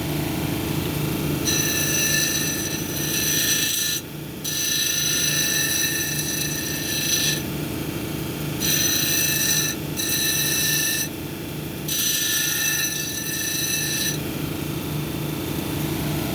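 A hematite cabochon is ground on an 80 grit wheel, giving a steady machine hum with a high grinding whine that starts and stops in bursts as the stone is pressed to the wheel and lifted away.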